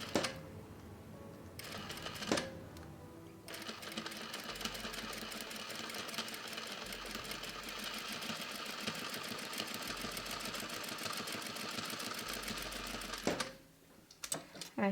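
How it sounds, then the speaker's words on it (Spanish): Sewing machine running steadily as it stitches close along the edge of a dress, a continuous dense mechanical whir lasting about ten seconds, starting and stopping cleanly with brief pauses and handling sounds at either end. "entonces vamos a coser al bordecito que quede bien orilladito"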